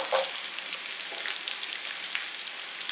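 Small shallots frying in a pan for a quick chutney make a close, continuous crackling sizzle at an even loudness throughout, with no voices.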